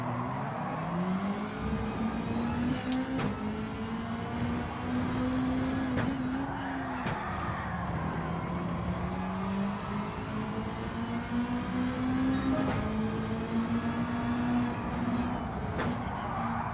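A rallycross car racing in Gran Turismo 7 roars continuously through a long stretch, engine pitch rising and falling with gear shifts, punctuated by sharp clicks and brief tire scrubs.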